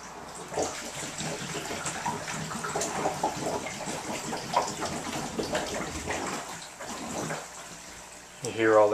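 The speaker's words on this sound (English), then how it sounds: "Hear all the air getting pushed out." Water rushes and gurgles through a hose as a pump pushes trapped air out of the line of a 40-watt Emperor Aquatics Smart UV sterilizer, a steady bubbling churn with talk over it and a louder surge at the end.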